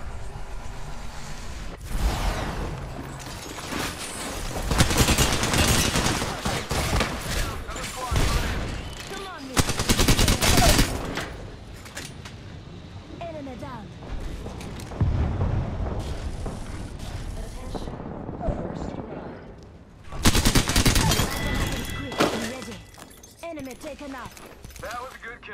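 Gunfire in the Apex Legends battle royale game, duos mode: repeated bursts of automatic weapon fire and sharp shots in loud clusters with quieter gaps, while players talk over the action.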